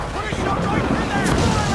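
Cannon fire during a naval battle in the Assassin's Creed 4 video game, a dense booming roar that fills the short stretch, with shouted voices mixed in.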